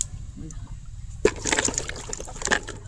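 Raw mangoes being washed in water, with faint trickling and a sudden splash followed by light sloshing and dribbles, soft and close, under quiet background noise.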